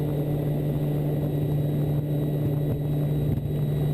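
Aircraft engines held at full takeoff power in a flight simulator game: a constant, even drone with a strong steady low hum and no change in pitch, loud and alone with no talk.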